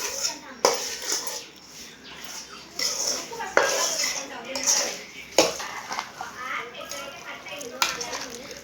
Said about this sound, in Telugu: ఆవకాయ ముక్కలలో నూనె అంతా వేసుకొని కలిపెట్టుకోవాలండి